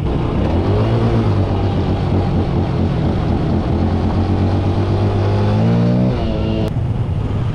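A Yamaha PG-1 motorcycle engine drones steadily and loudly on a bumpy off-road backroad, its pitch rising as it revs up near the end over rough, rumbling road noise.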